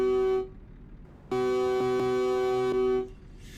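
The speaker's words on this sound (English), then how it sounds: "Check this air horn out." Truck air horn in Euro Truck Simulator 2 gives two loud, steady harmonic blasts, a short one and then a longer one, clear and alone with a faint hum between.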